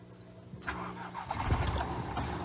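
An adapted car's engine is started with a start-stop button: a quiet hum, then the starter cranks and the engine fires and settles into a close, steady idle.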